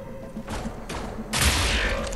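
Gunfire in Wolfenstein: The New Order, a few heavy bursts in quick succession, the last one loudest and longest, close and punchy with no talk over them.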